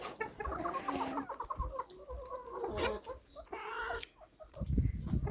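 Hens cluck and squawk busily close by while eating ginger and rice, with short bursts of calls rising and falling and a brief scuffle near the end.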